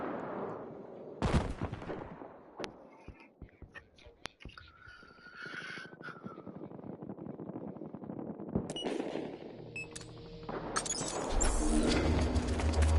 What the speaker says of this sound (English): Stop fucking shooting!